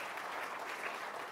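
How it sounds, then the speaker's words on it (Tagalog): A church congregation claps together during a live worship service, a dense steady applause filling the room from start to end with no pauses, spoken words barely present under it. "isa mga palakpak para sa Panginoon"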